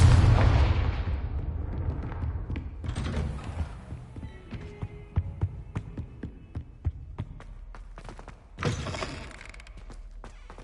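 Confringo explosion spell cast in Hogwarts Legacy: a loud, close fiery blast opens, crackling and rumbling as it fades, followed by scattered sharp clicks and debris ticks, then a second shorter burst near the end.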